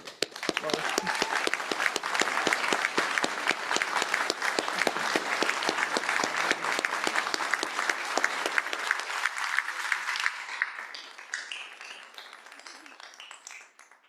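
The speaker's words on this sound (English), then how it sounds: "So really a huge round of applause for." Sustained audience applause at a closing plenary session, dense and steady for about ten seconds before thinning out and fading.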